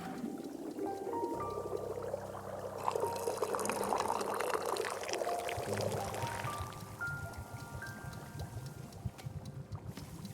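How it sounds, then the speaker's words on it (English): Tea pours into a cup in the video game Wanderstop, a steady liquid stream running for several seconds under soft chiming game music. "And we pour."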